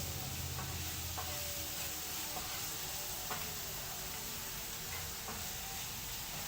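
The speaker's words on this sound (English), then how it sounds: "Then I'm going to stir this up." Paprika chicken frying in a pan on a stove set to medium is stirred, giving a steady close sizzle with faint scraping clicks from the utensil every second or so, and no talk.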